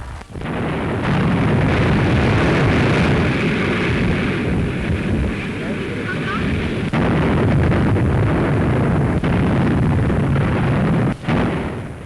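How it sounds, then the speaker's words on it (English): Deep, rumbling underwater depth charge explosions from a 1943 naval anti-submarine attack roll in heavily one after another, a continuous booming roar with a few sharper thuds, loud and close. "As the shudder of explosions comes nearer and nearer"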